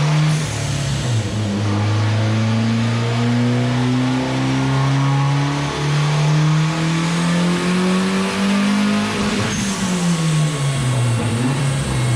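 A turbocharged Honda D15B engine on a dyno pull, revving steadily upward as its tone climbs for about nine seconds, then dropping off and settling, loud and close throughout with a constant mechanical drone.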